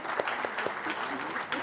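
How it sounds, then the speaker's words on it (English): A church congregation at a Sunday service applauding a family, with steady, fairly distant clapping from many hands and faint voices mixed in. "Would you give them a round of applause today?"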